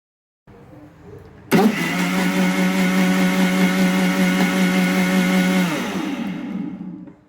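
An electric mixer grinder blends musk melon with sugar and milk, whirring up abruptly into a loud, steady high-pitched motor drone that holds for several seconds, then winds down as it is switched off.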